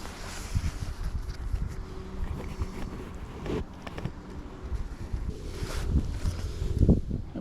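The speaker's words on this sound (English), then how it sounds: "The wind blows from left to my right" Steady wind blowing beside the River Thames during a fishing club match, a continuous low rushing buffet against the microphone with brief gusts, loud and close throughout.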